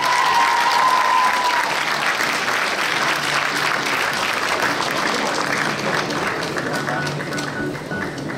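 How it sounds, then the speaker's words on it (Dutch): Audience applause fills a Belgian pageant stage event, a dense, steady clapping that holds loud throughout and fades slightly toward the end. "Geef haar daarvoor een applaus."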